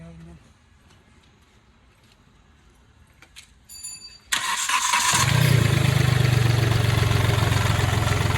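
Faint ticking, then a 2015 Hyundai Xcent diesel car engine cranks and catches, settling into a loud, steady rumbling idle.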